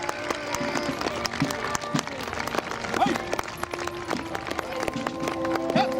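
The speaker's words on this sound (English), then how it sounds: "Let's have a round of applause for the American Civil War boys there." Outdoor crowd applause for American Civil War Society reenactors at a fair pageant, scattered clapping spread across the field with a voice talking over it and occasional horse hoof clops.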